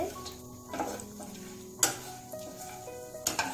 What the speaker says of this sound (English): And now we are a little sauteing it.